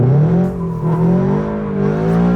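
A 2022 Subaru BRZ engine droning steadily while the car spins donuts, a loud continuous rising and falling hum with no voices.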